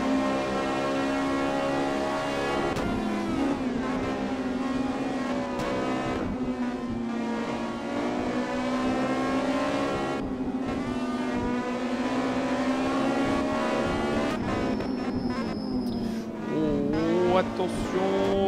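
Onboard a Norma M20 race car of Team Eva Racing at the Nogaro circuit, the engine drones loud and steady with rising and falling revs through gear changes, while a commentator talks over it throughout.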